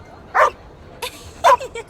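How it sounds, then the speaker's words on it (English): A dog in the video game The Inquisitor gives two short, bright yipping barks about a second apart, close and loud against a quiet background. "Gosh! What a lovely dog!"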